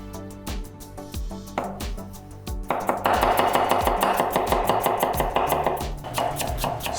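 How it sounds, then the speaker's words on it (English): Knife chopping garlic, ginger and scallions on a cutting board, rapid steady thuds that speed into a dense close run of knocks partway through. "slice up some scallions"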